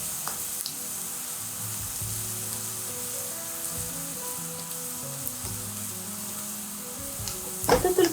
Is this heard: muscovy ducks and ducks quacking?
no